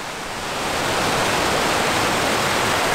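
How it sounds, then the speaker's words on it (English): Cascadilla Falls, a cascading waterfall in Ithaca in the Finger Lakes region, pours in a dense, continuous roaring hiss that swells within the first second and then holds steady and loud, with no voices. "Plus, gorgeous waterfall, cascading waterfall."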